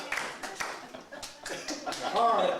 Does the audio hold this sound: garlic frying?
no